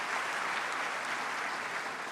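Audience applause at a conference hall after a presidential speech at the Afreximbank Annual Meetings, a steady dense wash of clapping from a large crowd, continuous and even throughout.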